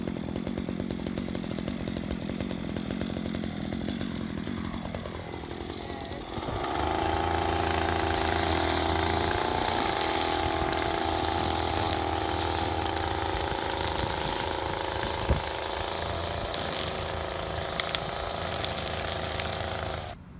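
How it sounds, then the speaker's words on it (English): A Stihl FS94R string trimmer cuts grass around shrubs and plants. The engine runs close and loud, starts lower, then revs up to a steady high whine that holds for most of the stretch, with no talking. "It takes a bit of getting used to controlling the speeds of the machine when you're cutting the grass around shrubs, trees, or perhaps gentle plants."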